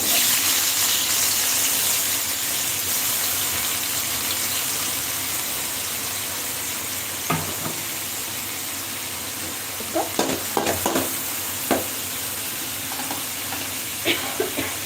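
Chopped onion and cumin seeds fry in a hot pan for a Telugu taro curry, a loud steady sizzle at first that settles lower, broken later by several sharp stirring clatters and bursts.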